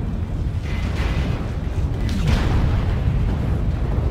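Artillery strike explosions in the game MechWarrior Online, a loud continuous rumble of deep booms rolling into one another, with bursts swelling around the middle and staying heavy to the end.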